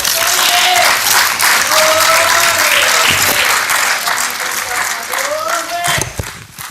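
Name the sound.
applause in parliament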